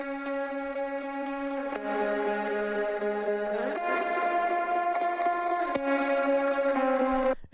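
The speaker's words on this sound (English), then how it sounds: "Then over here, there's another guitar pattern that comes in." A second electric guitar pattern passes through amp effects with echo and chorus, shifting between sustained chords about every two seconds in a steady, processed tone with no voices.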